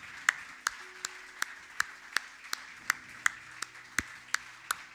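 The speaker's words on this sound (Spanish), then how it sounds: "Dale fuerte, fuerte ese aplauso al Señor." A church congregation clapping in steady unison rhythm at a worship service, with sharp, evenly spaced claps over a faint background and no speech.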